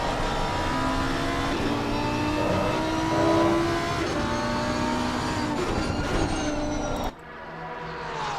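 A Lamborghini race car in a PC racing game laps Monza, its engine droning loud and steady with rising and falling revs, alone without talk, until the sound cuts abruptly near the end.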